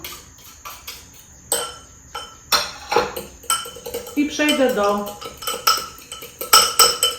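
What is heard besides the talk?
stirring food in a bowl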